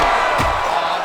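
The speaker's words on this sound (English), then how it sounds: "you hear the crowd react every time they come together" A fight crowd in an arena roars in reaction to punches landing, a dense wash of cheering and shouts throughout the brief moment, with a short swell of noise in the middle.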